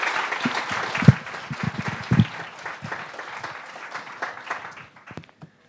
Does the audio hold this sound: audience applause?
yes